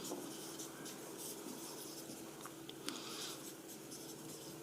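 Chalk or marker scratching on a board during a Class 12 physics lesson on the electric field of a charged sheet, a steady faint scraping with small taps, heard alone under a constant room hiss.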